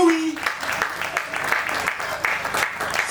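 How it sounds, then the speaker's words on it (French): Audience at a summer holiday-makers' festival applauding warmly, a continuous mass of clapping at moderate loudness with a brief voice at the very start. "Qu'on l'applaudit chaleureusement."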